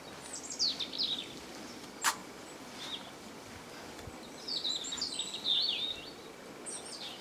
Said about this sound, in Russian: птицы поют шикарно